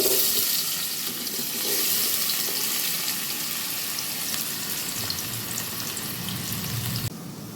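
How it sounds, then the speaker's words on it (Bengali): Sliced onions fry in hot oil for Dhaka-style mutton tehari, giving a steady, fairly quiet sizzling hiss that holds evenly throughout with no talking. "এবার পুরো পেঁয়াজটা এর মধ্যে ভেজে নেব।"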